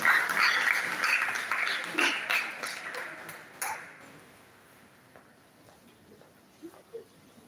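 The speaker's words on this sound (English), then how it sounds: "Give yourself a round of applause." Applause at a mental health awareness talk, a burst of clapping from an audience that fades over a few seconds, with a few scattered claps trailing afterward.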